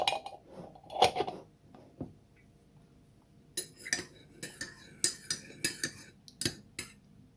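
Spoon clinking against a mug while stirring a scoop of collagen powder into hot coffee: a few sharp taps at first, a pause, then a quick series of bright metallic clinks close by, with no talking.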